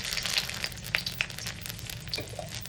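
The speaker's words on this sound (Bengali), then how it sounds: "এবার ফোড়নে দিয়ে দিচ্ছি একটা গোটা লঙ্কা" A whole dried red chili and half a bay leaf sizzle in hot tempering oil for a Bengali shukto, with light crackles and pops over a soft steady fry, close and quiet with no talking.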